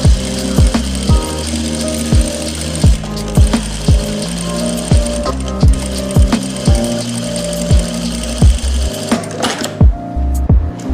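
A sewing machine runs steadily along a salwar seam, loud and close, its motor hum punctuated by a regular rapid thumping of the needle throughout, with a small rattle near the end and no voices.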